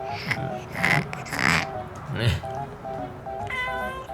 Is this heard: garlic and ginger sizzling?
no